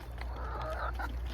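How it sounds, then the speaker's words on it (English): Chickens cluck and murmur in a coop on a morning, with several overlapping calls in a steady close chatter over a low background hum and no talk. "the chickens are excited to come out"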